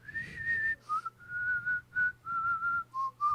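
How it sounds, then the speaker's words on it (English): A person whistles a short tune into a microphone through a thin mask, a series of clear sustained notes and short phrases with brief breaths between them, close and fairly loud, with no talking. "you can whistle into a microphone, and the air won't hit it."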